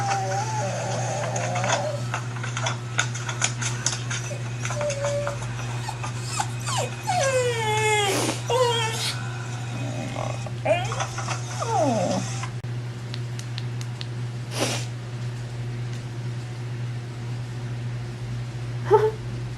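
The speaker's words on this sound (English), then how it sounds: "I don't know what you're crying about, doggy." A dog cries and whimpers with rising, wavering whines clustered in the middle, over a steady low hum indoors, with a few sharper yelps later.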